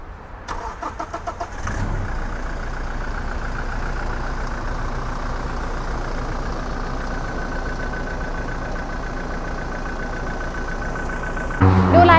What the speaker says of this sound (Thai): เดี๋ยวมาฟังเสียงเครื่องยนต์กันต่อเลยค่ะ สตาร์ทเลย